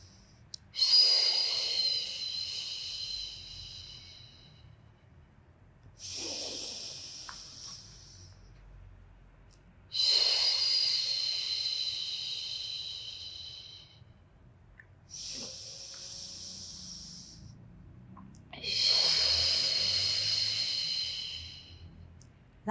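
Deep breaths during a pilates exercise, four long hissing exhalations at steady intervals of about five seconds, close and fairly loud, with quiet pauses and no talking.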